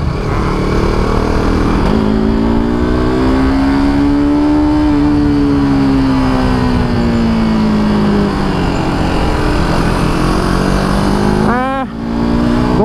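A KTM RC 250 motorcycle engine on a test ride through a corner, droning steadily up close, its pitch climbing then easing down, with a quick rev rising sharply near the end.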